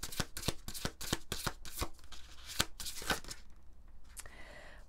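Tarot cards are shuffled close up in a quiet room, giving a run of crisp riffling snaps and soft slides that thin out toward the end, with no voices.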